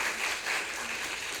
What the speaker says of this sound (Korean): 우리에게 생기를 불어넣으신 우리 이사장님께 다시 한번 큰 박수를 부탁드리겠습니다